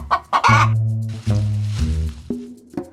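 A hen in a farmyard gives a few loud, close clucks in quick succession, with short bursts and sustained tonal calls and no talking around them.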